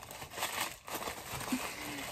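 Ornament packaging being unwrapped by hand: a close, continuous crinkling and crumpling of paper wrapping with a few tearing rustles, and a brief hum of a voice partway through.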